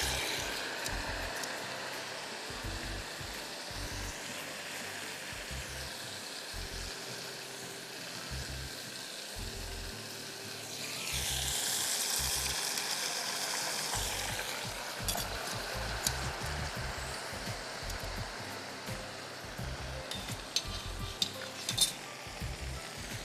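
Fish frying in hot oil for a fish curry, giving a continuous close sizzle with occasional stirring and clinks of a utensil, swelling louder in the middle.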